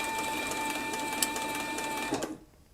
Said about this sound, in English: It's wound a complete bobbin while I've been sewing around this dog collar right here.